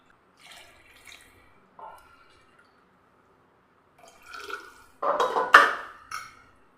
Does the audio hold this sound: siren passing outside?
no